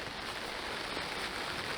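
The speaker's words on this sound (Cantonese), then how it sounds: "哎呀，真係落雨。" Rain falls steadily over Hong Kong farmland, a faint, even hiss of drops on surfaces with no voices.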